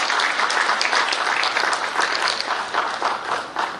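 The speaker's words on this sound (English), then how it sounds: "A big round of applause" Loud, sustained applause from a crowd at an official launch of a floriculture mission, thick and continuous, tapering slightly toward the end.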